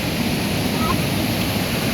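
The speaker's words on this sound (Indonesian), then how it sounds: "Cuma ini sungainya agak deras" A swift-flowing river in Takengon rushes as a steady, dense roar of water, close and continuous with no breaks, filling the whole stretch without any voices over it.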